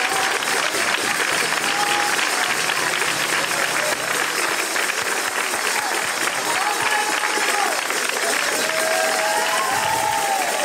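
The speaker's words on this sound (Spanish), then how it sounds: "¡Un aplauso!" A large crowd at an anniversary celebration of a parranda music group in Manilva applauds and cheers continuously and loudly for about ten seconds, with occasional shouts rising above the dense clapping.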